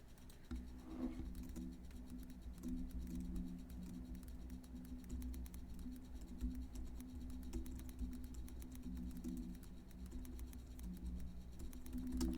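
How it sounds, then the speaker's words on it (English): Quiet keystrokes tap on a computer keyboard in an irregular patter under a steady low hum, faint and without voices. "y'all know why I'm freaking typing terribly"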